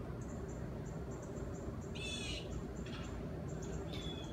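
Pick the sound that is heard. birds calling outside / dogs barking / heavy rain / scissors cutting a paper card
birds calling outside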